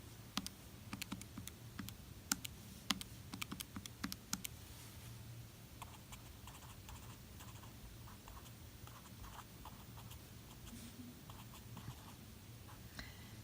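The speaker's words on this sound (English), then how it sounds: "just carefully type this in." Numbers keyed into a calculator for a homework area problem: a quick, faint run of small clicks and taps, denser at first and then sparser, over a low steady hum.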